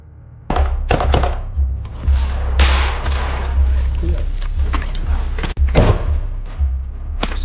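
Gunfire from a Ukrainian soldier laying suppressive fire on building windows during a frontline assault in the Donetsk region: sharp, irregular shots and thuds cracking over a constant low rumble, loud and close.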